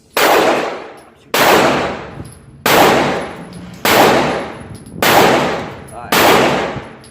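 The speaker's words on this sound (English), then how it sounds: "but we go shoot the Glock here." Glock 9mm pistol fired at a shooting range: six loud, sharp shots spaced roughly a second apart, each with a ringing decay, no talking between them.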